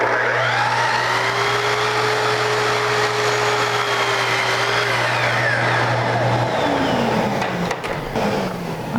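A miter saw whines up loudly at full speed and cuts through wood molding for a long steady stretch, then spins down, followed by a few sharp clicks and clunks; no voices.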